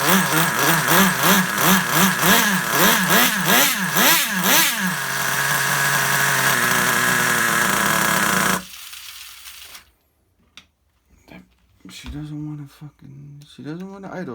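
Vintage Traxxas Rustler RC truck's small nitro engine revving in rising and falling bursts, then holding a steady high drone before cutting out, followed by quieter sputters and restarts close by.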